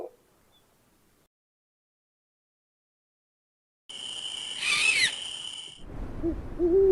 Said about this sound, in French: Un son profond et lointain dans la nuit, l'appel d'un hibou, le veilleur de nuit silencieux de la nature.